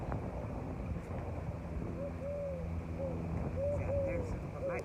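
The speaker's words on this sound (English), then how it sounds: "It definitely sounds like an owl." Soft owl hooting calls repeat several times in the distance during the day at Lakefront Park in Kissimmee, Florida, over steady wind and outdoor background noise, with no talking.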